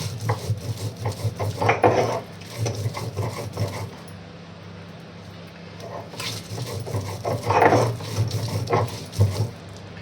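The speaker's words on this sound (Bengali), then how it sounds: "এবার শিলে বেটে নেব। দেখো এইভাবে পাতাটা পুরো বেটে নেব।" Kharkol leaves being ground on a stone grinding slab (shil), heard as repeated rough rasping scrapes of stone on stone in slow back-and-forth strokes, close and fairly loud.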